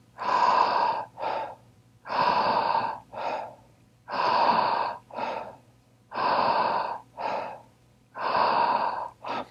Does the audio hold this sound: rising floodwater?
no